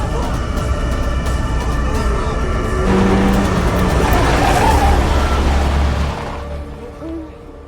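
A car approaches in a horror film, a loud, close engine rumble that builds and swells over several seconds amid tense noise, then fades as it passes.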